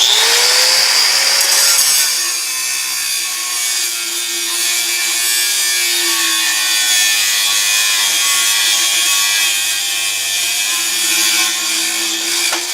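Power saw cutting through the steel exhaust pipe under a 2006 Ram turbo diesel truck, a steady close grinding rasp that shifts pitch as the blade bites, running continuously with no talk.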